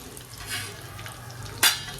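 Asafoetida and turmeric go into hot oil in a pan. A soft, steady sizzle is broken by a couple of brief scraping or stirring sounds and one sharp clink near the end.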